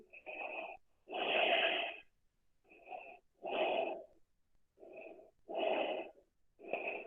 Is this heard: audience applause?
no